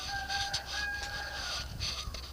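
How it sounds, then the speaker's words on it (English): Several roosters on a garden homestead crow in the morning, with steady, drawn-out calls carrying across the yard in a continuous stream and a rumbly outdoor background beneath. "Oh dear, the roosters."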